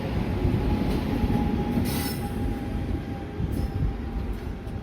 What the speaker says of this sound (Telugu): ట్రైన్ వచ్చేసింది అంటున్నా బాయ్.